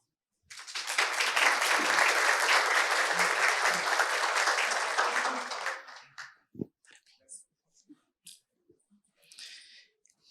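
An audience at a panel on AI regulation gives the ambassador about five seconds of steady, moderately loud applause, which then stops abruptly, leaving faint scattered noises and a few brief sounds.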